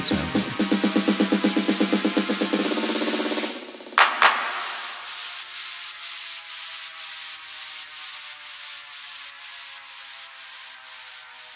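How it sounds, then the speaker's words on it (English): Electronic white noise effect from a dance track, first pulsing rapidly with sidechain ducking, then a sharp burst followed by a long series of fading delayed repeats, no voices. "a white noise used multiple times in the track"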